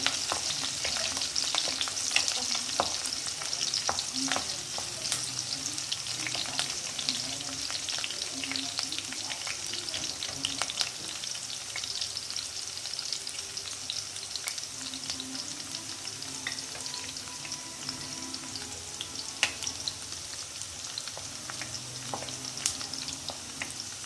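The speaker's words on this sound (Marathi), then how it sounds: "सोनेरी कलर येईपर्यंत थोडं परतून घ्यायचं" Onion sautés in a pan while being stirred, a steady close sizzle with frequent scraping and clicking of the spoon across more than twenty seconds, no one speaking.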